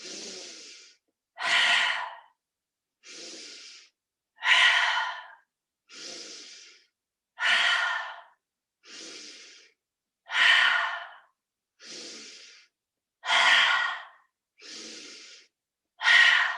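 Slow, deliberate breaths in through the nose during a guided relaxation exercise, about a dozen soft airy inhales and exhales alternating evenly, close and clear with quiet pauses between.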